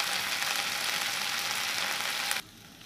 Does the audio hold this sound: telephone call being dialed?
no